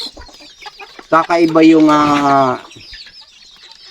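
A chicken clucks in a loud, close burst lasting about a second and a half, with someone speaking briefly before and after it.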